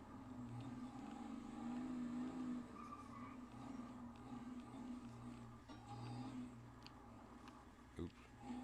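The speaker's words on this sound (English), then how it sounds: "That car comes skating in sideways." In GTA 5, a car engine drones steadily with a long rubbery tire screech as it slides sideways, then a short thump near the end, all at moderate volume.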